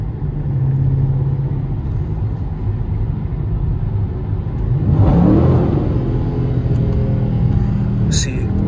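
A Dodge Challenger Scat Pack in track mode accelerates through traffic, its engine a loud, steady rumble that swells into a rising rev partway through, heard from inside the car.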